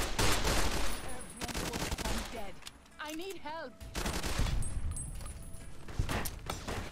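Rapid, loud gunfire in Fallout: New Vegas, bursts of close shots with a short lull, then more firing, and brief voice sounds in the middle.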